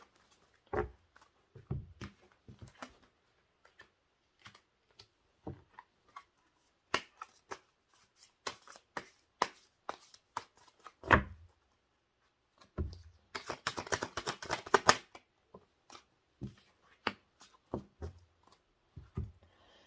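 Tarot cards are shuffled and handled close up: scattered crisp taps and flicks, then a dense riffling burst, then more sparse clicks, all in a quiet room.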